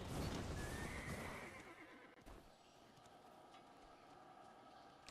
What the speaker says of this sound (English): This is one of the reasons why to have the horse.